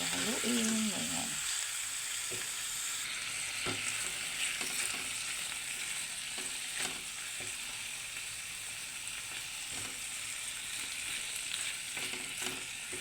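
Chicken liver and gizzard adobo sizzles steadily in a pan as it is stirred, a continuous frying hiss with occasional scraping clicks of the utensil, close and fairly quiet, with no one talking.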